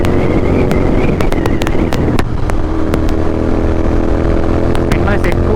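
Royal Enfield GT650 motorcycle cruising on a highway, steady loud engine drone and wind rush throughout, with a voice talking over it.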